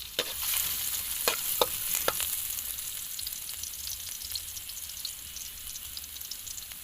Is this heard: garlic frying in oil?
yes